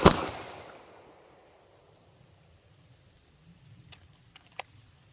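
A single sharp gunshot from a shooting drill cracks at the very start and rings out in a decaying tail, followed by near silence with a few faint clicks.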